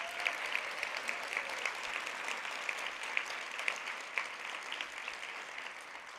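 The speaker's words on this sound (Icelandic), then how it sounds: "Gefum við gott klapp." An audience at a sustainability talk gives warm applause, a steady, even patter of many hands clapping, heard from a moderate distance and fairly soft.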